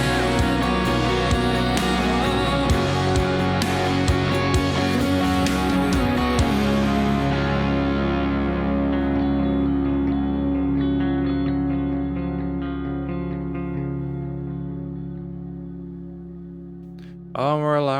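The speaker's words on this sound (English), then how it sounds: "We do have reverb tails on this" A song plays as music with effects, then its final sounds are left to ring out, a long reverb tail fading gradually over many seconds before a brief new sound at the end.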